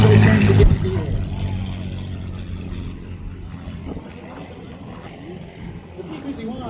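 A P-51A Mustang warbird with an Allison engine makes a strafing pass at an airshow, a loud roar peaking at first and then fading into a steady distant drone, with an announcer talking over it.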